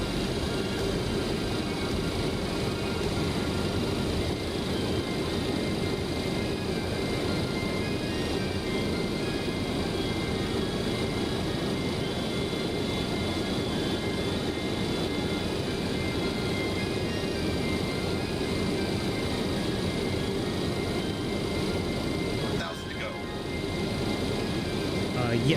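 A Boeing 727's engines drone in flight inside a flight simulator game, a steady, unbroken roar with a brief dip near the end, while a person talks over it.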